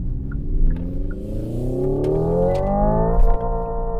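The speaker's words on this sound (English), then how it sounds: "I purposely hit the red line and didn't upshift, so it's actually backed off, basically telling me that I redlined out" An electric car's simulated gasoline engine sound revs up steadily in pitch toward redline, holds briefly, then cuts back abruptly as the limiter kicks in, loud and close with a deep rumbling undertone.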